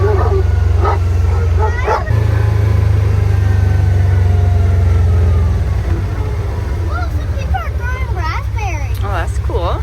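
A dog barks and yips in short, repeated bursts close by, mixed with people talking over a steady low rumble like a car interior.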